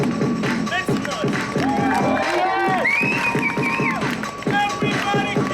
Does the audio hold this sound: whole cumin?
no